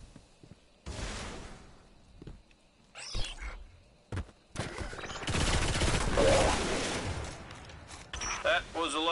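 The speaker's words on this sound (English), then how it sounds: "That was a lot of shooting." Bursts of gunfire in the shooter game Destiny, rapid sustained volleys of varying loudness with pauses between, mixed with other game sounds and some talk.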